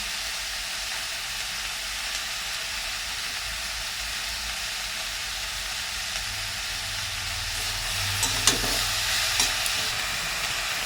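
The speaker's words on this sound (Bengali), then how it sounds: "এবার আমি বাঁধাকপিটা দিয়ে দেবো, দিয়ে একটুখানি নাড়বো।" Cabbage is stirred into already-fried vegetables in a hot pan, giving a continuous loud sizzling hiss with a brief burst of scraping near the end and no voices.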